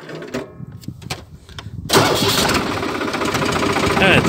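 A vineyard grass-mulching machine built for high revs is started: a few short cranking bursts and knocks, then its engine catches and roars into a loud, steady run close by, with someone speaking over it.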